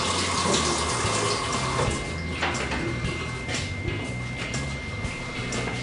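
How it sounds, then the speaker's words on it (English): A winemaking bung being rinsed under a running tap, with water splashing steadily into a sink at close range and brief shifts as the bung moves through the stream. "Just rinse off the bung."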